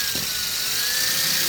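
A steady high-pitched whine of a drill boring holes in a vermicompost bin runs without a break, loud and close, with a faint mechanical rattle underneath.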